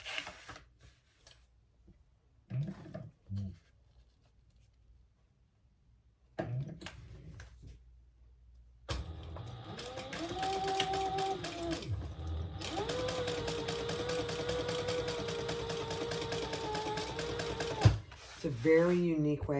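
A home sewing machine stitches the lining seam of a crossbody bag with a magnetic snap, humming steadily for several seconds after brief handling noises, stopping once and then resuming.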